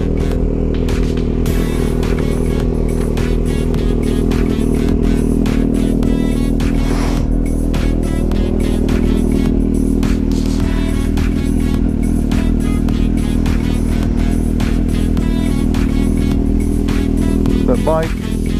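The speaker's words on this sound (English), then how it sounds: "The bike still trying to warm up." A motorcycle engine idles steadily and loudly up close while warming up, its low rumble constant with faint clicks and clatter on top.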